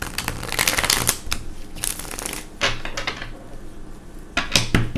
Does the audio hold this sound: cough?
no